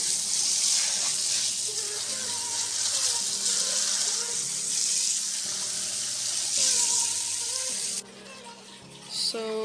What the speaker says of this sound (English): now we're trying to fill up the tank to check on the fixed silicone on the side of the aquarium